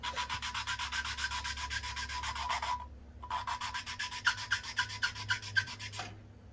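Engine valve on a Farmall Cub being lapped into its seat with a suction cup tool, a quiet, rapid back-and-forth gritty rubbing in two bursts separated by a short pause, close and without speech.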